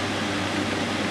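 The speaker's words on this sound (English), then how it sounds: "Over here, got a fan." An electric fan runs steadily in a home man cave, giving an even, unbroken whir with a low hum, close and alone.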